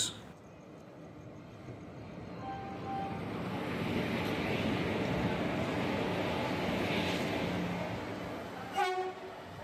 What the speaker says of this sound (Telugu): మన ట్రైన్ అయితే కనుక వచ్చేసింది, కాచిగూడ గుంటూరు ఎక్స్ప్రెస్